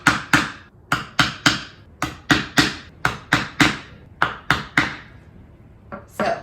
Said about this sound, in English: I'm just gonna take my screwdriver and link up like boom, boom, boom.